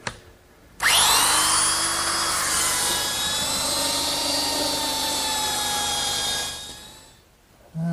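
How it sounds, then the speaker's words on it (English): A belt sander grinds a 2x4 wood joint clamped in a vise, starting abruptly and holding a loud, steady whining roar for about six seconds before winding down, close and with no talk. "I can use my belt sander"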